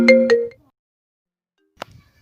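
A phone ringtone from a customer's call plays two quick melodic chimes, then silence, then a brief click or ping as the call is answered.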